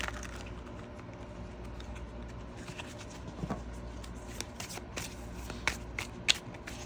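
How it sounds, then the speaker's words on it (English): Tarot cards shuffled by hand, a soft continuous riffling patter with sharper snapping flicks growing more frequent toward the end, close and quiet with no talking. "So I'm gonna pull some tarot cards here."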